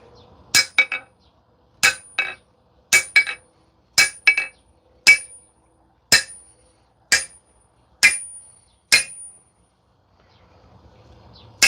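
A small hammer strikes the steel head of a 1924 Sager Chemical axe during restoration, giving about a dozen sharp, bright metallic clinks spaced roughly a second apart, some in quick doubles, loud and close with quiet gaps between.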